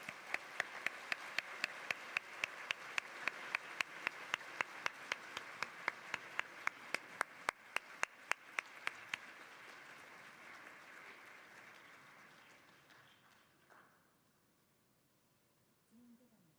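Applause at the Internet Governance Forum 2023 for His Excellency Kishida Fumio: a steady room-wide patter of clapping, with one nearby person's sharp rhythmic claps standing out, gradually fading to quiet after about twelve seconds.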